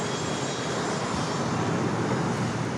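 Turkish Airlines Boeing 777-300ER jet rolling for takeoff on the north side at LAX, a steady broadband engine roar held at an even level throughout, distant and continuous with no voices.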